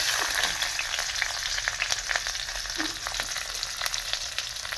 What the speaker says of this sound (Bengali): এটাকে প্রথমে ভালো করে লাল লাল করে ভেজে নেওয়া হবে